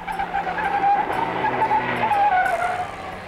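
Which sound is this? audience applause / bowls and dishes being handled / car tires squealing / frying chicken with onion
car tires squealing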